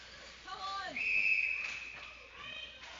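A referee's whistle sounds during a youth hockey tournament game, one sustained shrill blast rising out of the rink noise as a commentator talks over it.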